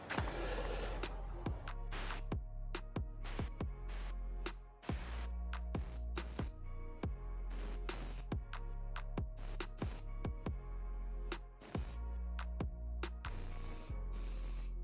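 A spray gun hisses in a long run of short test bursts of clear coat for a Camaro, each spray starting and stopping sharply, with brief gaps between them.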